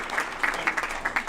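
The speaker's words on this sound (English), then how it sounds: "let's give everybody a round of applause" Brief round of applause from attendees at a Federal Way city council meeting, a short scattered patter of hand claps heard fairly close, with no talking over it.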